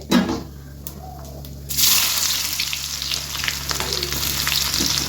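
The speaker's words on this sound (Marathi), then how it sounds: "हे थोडं थोडंसं असं तळून घ्यायचं आहे आपल्याला" Chopped onion frying in oil in a pan for masala dosa filling, a steady close sizzle that jumps louder partway through as more goes in, with occasional stirring scrapes and no talking.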